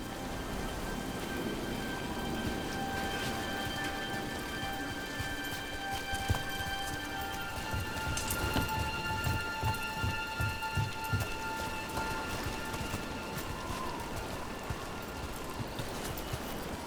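Steady rain pours throughout in Dragon Age: The Veilguard, a dense hiss of drops with a few faint low rumbles, no voices.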